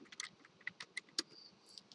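Rapid, uneven typing on a computer keyboard while writing a script tag for a JavaScript if-else example, with quick close key taps in short bursts and no voice.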